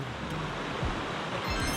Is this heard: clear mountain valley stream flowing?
yes